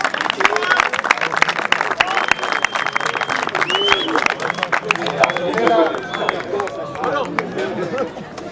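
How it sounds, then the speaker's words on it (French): A crowd at a charity gala football match claps steadily for a coach, dense applause mixed with chatter and voices in the room, sustained throughout. "On peut l'applaudir."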